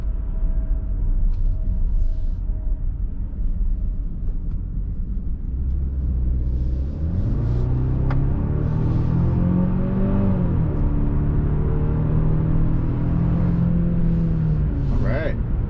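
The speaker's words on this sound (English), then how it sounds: "Just listen to the sound as we accelerate." Engine of a 2022 Genesis GV70 accelerating onto a highway, heard from inside the cabin as a steady low rumble that rises in pitch over several seconds under continuous road noise, with a voice talking over it.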